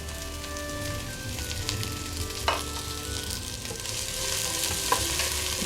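Cabbage and capsicum stir-frying in a pan for Singaporean rice, a steady close sizzle and crackle with a few brief clinks of a utensil against the pan.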